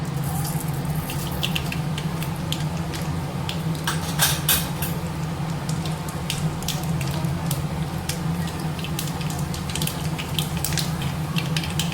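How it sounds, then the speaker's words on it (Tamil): Mustard seeds sputter in hot oil in a pan, made for a Tamil eggplant stir-fry: a steady, close sizzle studded with quick scattered pops and crackles that never let up. "எண்ணெய் காஞ்சிருச்சு கடுகு சேர்த்துக்கலாம்"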